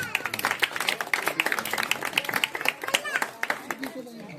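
Steady applause from a crowd at a Ganesh festival laddu auction, continuous rapid clapping that stays fairly even and close for the whole stretch, with voices mixed in underneath.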